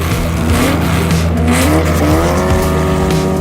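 A 1956 Porsche 550A Spider race car with a 1.5-liter engine drives past loudly, its steady engine tone rising and falling in pitch alongside a squeal of tires, with no voices.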